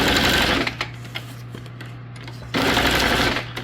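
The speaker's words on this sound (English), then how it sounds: "I'm going to kind of just put a little bit more stitching here" A sewing machine stitches paper junk journal tags in steady, close, loud bursts, with a brief run at the start and a longer one near the end, and a quieter mechanical hum between them.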